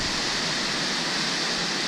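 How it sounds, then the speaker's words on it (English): A waterfall in Chile roars as a dense, constant rush of falling water, loud and unbroken throughout, with no voices. "Waterfall"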